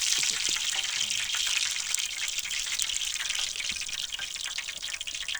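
Walleye fillets fry in hot oil in a pan over a campfire, giving a loud, steady hiss and crackle with scattered pops throughout.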